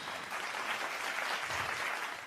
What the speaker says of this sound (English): Giving applause to Ms. Valle from the Philippines.